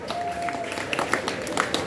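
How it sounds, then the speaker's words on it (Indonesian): Students clap together during a Monday flag ceremony at a junior high school in Depok, a dense, continuous patter of many hands with scattered sharper claps and a faint tonal sound early on. "Tepuk tangan."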